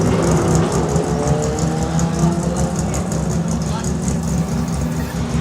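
A Datsun 1600 race car at a hillclimb, a steady engine drone that carries throughout under a commentator's voice.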